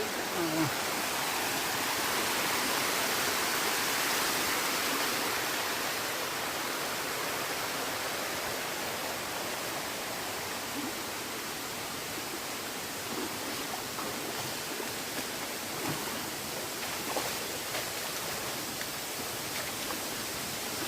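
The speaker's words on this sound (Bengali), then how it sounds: "ছোট বড় মাঝারি সব ধরনের ঝর্ণা দেখতেছি" A waterfall roars in a constant, even rush of water that fills the whole scene without a break.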